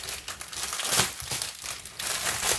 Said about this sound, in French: il y a beaucoup de bruit de plastique avec ces toiles comme ça